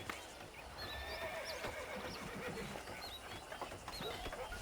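Wild horses neighing on a ranch in the video game Red Dead Redemption 2, with several faint whinnies scattered over quiet ambient outdoor game sound and light hoof clatter, no speech.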